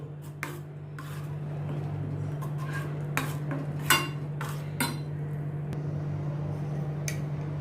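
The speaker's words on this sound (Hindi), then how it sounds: "इसको भी अच्छी तरह से मैं मिक्स करती हूँ।" Kashmiri red chili powder being mixed into omelet batter in a bowl: a run of scattered clinks and scrapes of a utensil against the dish over a steady low hum, with no talking.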